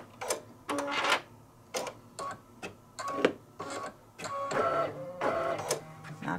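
An embroidery machine works close by in a series of short mechanical bursts, whirring and clicking as the thread trimmer cuts, with brief pauses between them and no talking.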